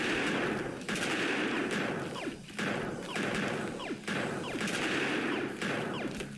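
A laser gun in the Pixel Warrior video game fires in rapid, repeated bursts, loud and continuous with brief gaps between volleys, sounding like dense automatic gunfire.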